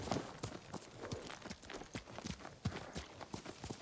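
A horse walks in the video game Ghost of Tsushima, its hooves making a steady run of soft, rhythmic clip-clops at a fairly low level.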